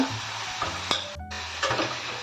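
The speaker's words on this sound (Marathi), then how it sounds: "आता हे सर्व चांगलं परतवून घ्यायचं आहे" Vegetables for masala oats, including French beans, peas and carrots, are stir-fried in a pan, with soft scraping stirs, light clinks of the spatula and a faint sizzle underneath, close by.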